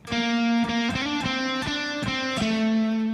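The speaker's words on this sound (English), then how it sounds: "Then that phrase is answered by another phrase, phrase 12, which sounds like this." Guitar playing phrase 12 of a song part, with a distorted, effects-laden tone: a steady run of ringing, sustained notes picked one after another, loud and close, with no voices.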